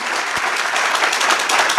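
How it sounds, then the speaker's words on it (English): Audience applause at a Pan-African youth conference on African unity and development, a dense, loud, sustained burst of clapping from a crowd. "I want you to give a resounding applause for yourselves."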